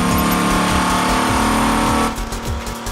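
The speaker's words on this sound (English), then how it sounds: "The team pushes the engine to redline" A 645-horsepower Dodge Viper engine held at high revs on a test dynamometer, a loud sustained near roar with a steady harmonic drone that drops and rumbles unevenly for the final second.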